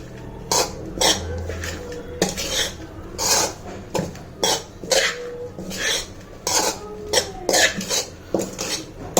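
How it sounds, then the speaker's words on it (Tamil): Flattened rice (poha) is stirred into a vegetable biryani mix, heard as repeated close scraping and clinking strokes of a spoon against a bowl in short uneven bursts, with no talk. "அவல் சேர்த்துட்டு நல்லா கிளறி விட்டுக்குங்க."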